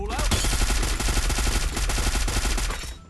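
Dense, loud automatic gunfire from the video game Free Fire, rapid continuous bursts filling the moment with no pause.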